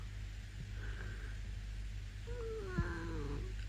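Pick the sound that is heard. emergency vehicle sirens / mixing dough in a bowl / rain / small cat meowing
small cat meowing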